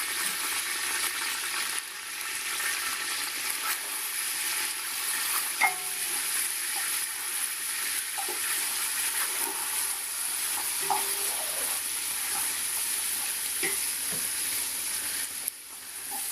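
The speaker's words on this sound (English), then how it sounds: "just fry it for a minute or two so that the garlic gets a little golden color" Garlic and ginger sizzle steadily in hot oil in a pan while a veg pulao is cooked, a constant close frying hiss with occasional faint stirring clinks.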